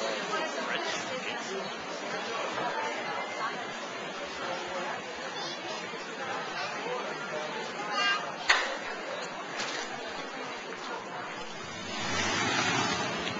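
Surf and wind on South Beach, Miami, Florida, a continuous wash of waves and breeze with a soft crowd murmur. A brief thump sounds in the middle, and the wash swells near the end.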